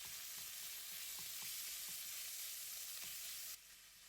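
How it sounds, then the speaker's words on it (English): Minced pork and garlic stir-frying in hot oil in a pan, a steady loud sizzle with scattered spatula taps and scrapes, dropping suddenly quieter near the end. "Stir-fry the pork with garlic until the pork is almost cooked"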